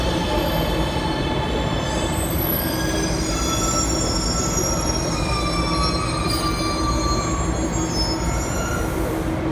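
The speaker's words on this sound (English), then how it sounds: "Here comes the train" A Shanghai metro train pulls into a station with loud, sustained wheel squeal and a steady rumble, high screeching tones sliding over a constant roar, with no voices.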